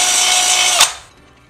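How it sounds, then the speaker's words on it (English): A power drill whirs at high speed for about a second drilling out powder coat on a 1963 Bolens Husky 600 lawn tractor part, then cuts off and winds down quickly to quiet. "We're gonna have to drill that out a little bit."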